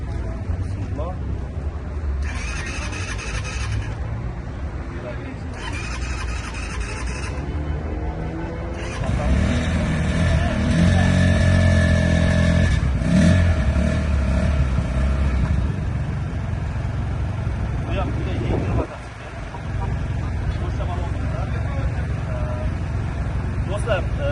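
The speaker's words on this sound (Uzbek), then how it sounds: "Xo'p, endi buni ham bir yurgiztirib o'tamiz." A Xunjie motorcycle with a 250cc radiator-cooled engine, idling with a low rumble, then revving louder and holding a higher note before dropping back, with someone talking over it.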